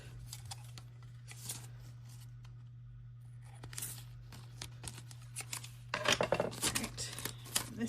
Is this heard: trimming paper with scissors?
yes